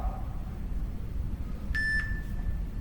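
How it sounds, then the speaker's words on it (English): A workout timer gives a short electronic beep pattern of two quick tones followed by a longer held tone, fairly faint over a low background hum, with no talking. "There's our timer."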